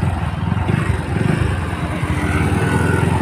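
A Bajaj Pulsar NS 125 motorcycle cruising in high gear, its engine a steady, loud, continuous drone with heavy wind rumble throughout, close to the rider and without a break.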